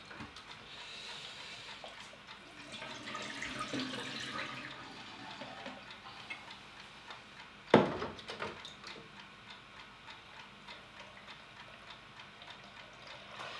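Tap water runs steadily into a film developing tank while E6 slide film is washed at home, a continuous soft wash with one sharp clunk of the tank partway through.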